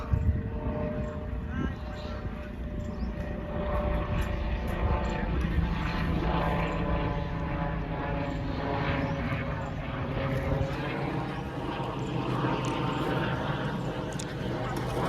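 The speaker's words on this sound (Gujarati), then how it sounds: "હેલિકોપ્ટર આવ્યું હો, અવાજ આવે બરાબર" A continuous low mechanical rotor drone from a helicopter flying overhead fills the air, steady and fairly loud, with a person's voice heard over it.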